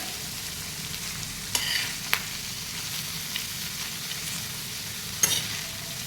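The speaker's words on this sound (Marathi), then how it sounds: "तो कांदा आता चांगला सोनेरी रंग येईपर्यंत परतून घ्यायचा" Onion sautéing in a pan until golden, a soft steady sizzle with a few sharp spoon scrapes and taps, close and fairly quiet.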